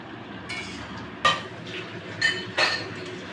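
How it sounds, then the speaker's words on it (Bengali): Marinated mutton fried with cardamom and cinnamon sizzles quietly in a pan as a spoon stirs it, with three or four sharp metallic clinks against the pan over the soft frying hiss. "এবার মাংসটাকে ভালো করে কষে নেব।"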